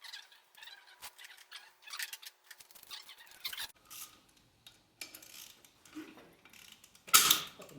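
Ratchet clicks and mechanical creaks from work on a rusty bolt of a 1968 Mercury Cougar, a run of short irregular metallic bursts, close, ending in a sharp louder crack near the end.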